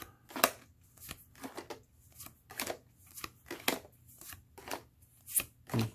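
Board game playing cards being shuffled and handled, giving a string of crisp, sharp riffling snaps and slides in irregular bursts, close and clear with no talking.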